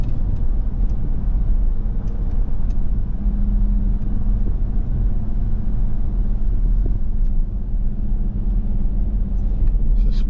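Deep steady exhaust rumble of a 2023 Dodge Durango R/T Hemi V8 heard from inside the cabin while driving, a low constant drone with road noise and a brief rise in engine tone, no talking.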